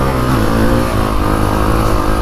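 Honda CRF 450 dirt bike engine out on its first ride, a loud, steady droning roar that holds close and constant throughout with no pauses or speech.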